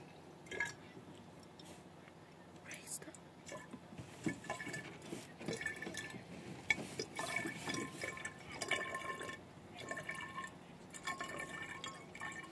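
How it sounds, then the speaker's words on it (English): Powerade is poured into a bottle, giving soft, faint trickling and splashing liquid sounds with small irregular bursts, close by and without talk. "get your Powerade or whatever y'all have, the liquid,"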